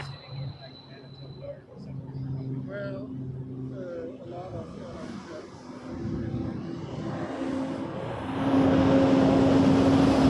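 A Porter airliner taking off from runway 05 at Toronto Pearson, its engine roar swelling from a distant rumble to a loud, sustained jet roar, with a voice talking over it early on.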